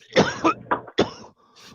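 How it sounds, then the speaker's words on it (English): Several harsh coughs come in a quick close burst, four rough hacks with a throat-clearing quality, loud and near with brief gaps between them and no speech. "It's an upstate cough."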